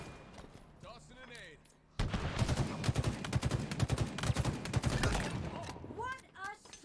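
Rapid bursts of gunfire in a video game, a dense fusillade of loud shots running steadily for several seconds after a quieter lead-in with a voice, then fading as someone speaks again.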